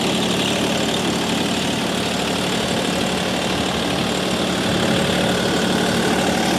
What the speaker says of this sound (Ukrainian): Послухаємо зараз з вами роботу моторчика.